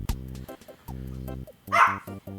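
Small full-grown dogs bark in quick yappy bursts, a few sharp barks with a short whine, close and fairly loud with no talking.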